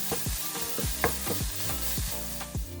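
Chopped red and white onions sauté in a pot for a Goan minced-meat curry, a close sizzle and hiss with repeated stirring scrapes and knocks throughout the short stretch.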